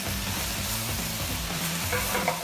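Garlic and softened vegetables frying in a pan for a beef and Guinness pie, a loud, even sizzle that holds steady throughout with faint stirring, close by and without talk.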